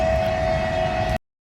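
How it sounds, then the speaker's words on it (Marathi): A train passing nearby, a loud steady rumble with a sustained horn-like tone held throughout before cutting off abruptly. "ट्रेन लागींच्यान पळोवपाक मेळटा बरी."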